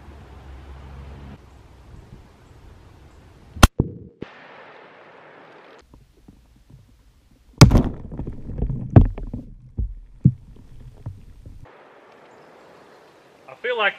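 A 300 Win Mag rifle fires at water-filled milk jugs, a single sharp report near the middle followed by a burst of splashing and clattering, with brief sharp cracks earlier and quiet gaps around them.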